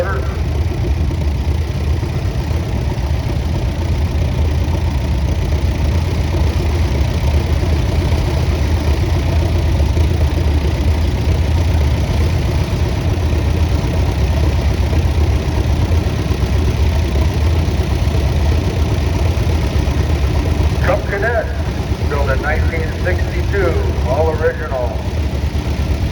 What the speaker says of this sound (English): It's a diesel tractor with a front end loader.